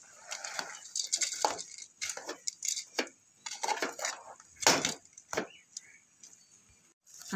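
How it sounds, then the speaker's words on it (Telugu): Puffed rice being poured into a vessel, a series of dry crackling, rattling bursts in uneven clusters, moderately close with short pauses between. "మూడు కప్పులు బొరుగులు వేసానండి నేను"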